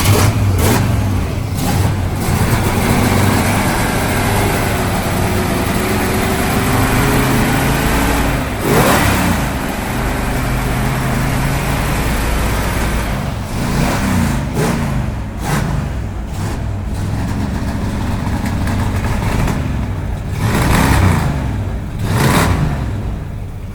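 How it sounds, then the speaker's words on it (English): An old car engine runs loud and close, revving repeatedly in rising and falling bursts with brief dips between throttle blips. "let's fire it up because we do have it running."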